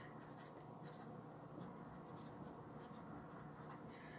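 Chalk paste marker writing on a chalkable chip surface gives quiet scratchy strokes in short rhythmic bursts, faint and close with no talking.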